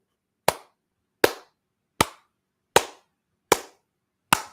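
Six sharp hand claps ring out alone at an even, steady pace, each crisp and close with a short decay into silence.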